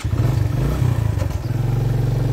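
A motorcycle being ridden on a mountain road near Babusar Top, a loud close engine drone with a rough throbbing rumble and slight clatter, no voices heard.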